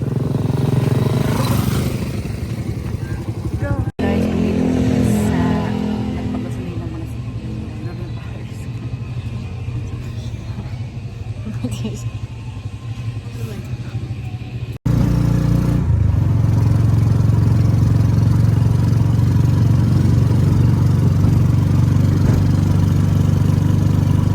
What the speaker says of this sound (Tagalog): Nakakita kami ng motor guys.